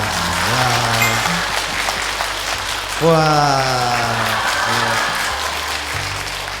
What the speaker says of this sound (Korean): 그냥 제가 박수 쳤어요